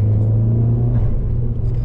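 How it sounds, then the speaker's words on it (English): Engine rumble from a car fitted with a Cobb RMM (rear motor mount), a steady low idle-like drone, loud and close, with no talking. "it's just the car just bouncing up and down because of the engine"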